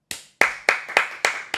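Six sharp, close hand claps from a single person, evenly spaced at a slow beat, each a crisp snap with short decay and near silence between.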